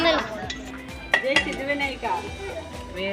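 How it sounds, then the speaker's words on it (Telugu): Peanuts being fried and stirred in a pan, with metallic scraping and clinking of a utensil against the pan in short irregular bursts, while a person speaks. "ఫస్ట్ వేరుశనగ గుడ్లు వేయించుకొని పక్కన తీసుకో"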